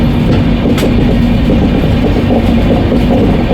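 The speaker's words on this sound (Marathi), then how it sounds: "असे 3 प्रकारचे इंजिन असतात जे ट्रेनला मागच्या बाजूने पुश करतात घाट सेक्शनमध्ये" A train climbing a ghat section, pushed from behind by three banker locomotives, gives a steady, loud, continuous rumble with a low engine hum and faint rail clatter throughout, with no voices.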